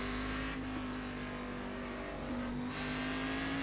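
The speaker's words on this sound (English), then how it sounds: "I love the way it sounds, the booming V8." The V8 engine of a Cadillac CTS-VR race car in the iRacing simulator at Okayama drones in a deep, steady tone, its pitch shifting slightly as the car lifts and gets back on the throttle, with no talk.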